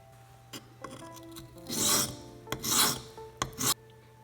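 A knife blade is stropped in repeated strokes, a close series of short, dry rasping rubs, two longer and louder swipes among lighter scrapes, no talking.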